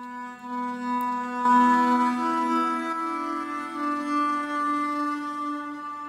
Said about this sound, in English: So the string sound almost sounds like it's going up and down.